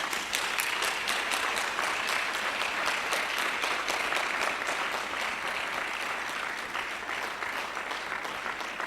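An audience claps at the official launch of the film "Le Courage d'un Champion", a sustained, even round of applause with crisp, rapid hand claps near and clear, holding steady for nearly nine seconds.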